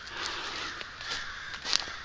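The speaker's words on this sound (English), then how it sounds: "That's a lot of crows." Several crows cawing at a distance in the woods in a busy chorus, overlapping calls spread across a steady outdoor hiss.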